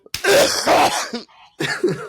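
A man who has been sick coughs hard and harshly, several rough bursts in a row, close and loud, then a short pause and another throat-clearing cough.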